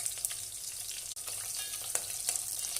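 Whole spices, shahjeera, cardamom, cloves, with green chili and bay leaf, fry in hot oil for bagara rice, a steady close, low-level sizzle with a few brief clinks and stirring scrapes throughout.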